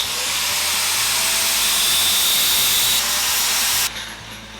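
A bench grinder sharpens a leatherworking scratch awl, giving a loud, steady high hiss of continuous grinding that holds for several seconds, then drops away abruptly as the steel comes off the wheel.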